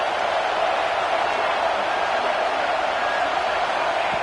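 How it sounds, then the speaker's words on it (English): A stadium crowd roars at an SMU versus Tigers football game, a dense, steady wall of noise holding at the same loud level throughout without a break. "wow, listen to this crowd noise. This stadium is vibrating"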